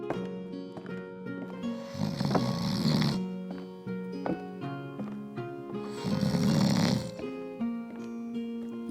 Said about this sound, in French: Il s'étendit sur le lit et fit semblant de dormir et il se mit à ronfler.